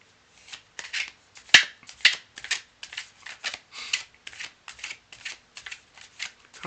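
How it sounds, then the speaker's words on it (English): Tarot cards are shuffled by hand in a quick series of crisp riffles and slaps, close and clear against a quiet room, with short pauses between bursts. "Cards are well shuffled"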